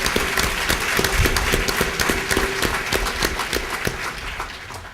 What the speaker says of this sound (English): please have a round of applause for all of our sponsors